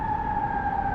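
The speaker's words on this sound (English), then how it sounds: "so there's an ambulance coming in." An ambulance siren on a city street outside a Dunkin' Donuts holds a steady, loud wail, alone with no voices.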